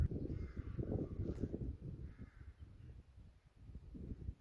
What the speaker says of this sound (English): What a racket. Loads of jackdaws.